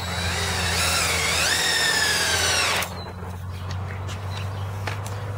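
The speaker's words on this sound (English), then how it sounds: "Okay, and we can finish driving our screws in this corner." A power drill drives screws into a wooden workbench, its motor whining loudly and rising in pitch for about three seconds before stopping abruptly, followed by light handling noise over a steady low hum.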